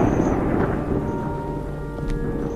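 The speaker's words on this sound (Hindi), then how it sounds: "बिजली कड़क रही है तो दिन में ही" Daytime thunder rolling through a rainstorm: a loud, rumbling peal that sustains over steady rain, with no voices present.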